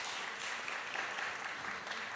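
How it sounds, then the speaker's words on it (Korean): Audience applause at a citizens' culture camp presentation, a steady wash of clapping from a crowd that continues evenly throughout. "다시 한번 박수 부탁드립니다."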